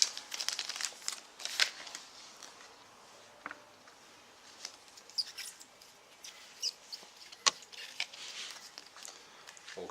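A 2011 Select NRL Strike trading card packet being torn open, its foil wrapper crinkling in short, sharp bursts at close range with quiet gaps between them.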